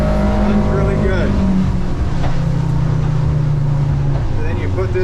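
A Hewescraft Searunner 210 boat runs at high speed, its outboard engine holding a steady loud drone with wind and water rush throughout; a voice speaks over it near the end.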